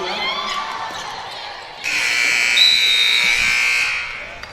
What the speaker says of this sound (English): that's the buzzer at the half